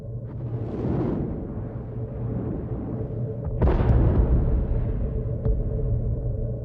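Rumbling explosions from a staged beach battle in a war film, with charges, gunfire and mortar hits buried in sand; a continuous low roar swells into a louder, heavier burst midway, with sharp pops scattered through.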